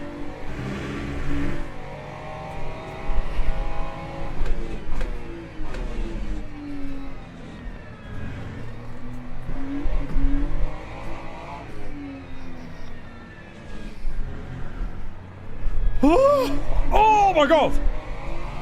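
A Ferrari GT3 race car in a racing video game, engine revving and downshifting in uneven bursts, with tire squeal near the end; a person exclaims briefly over the engine noise.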